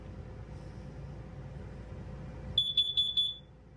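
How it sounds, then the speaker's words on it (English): A faint steady hum gives way to a burst of four sharp, high-pitched electronic beeps in quick succession from an LP and carbon monoxide detector test in a 2019 Forest River Flagstaff 27BHWS travel trailer. "We also have a LP carbon monoxide button here. It's going to make that annoying little sound."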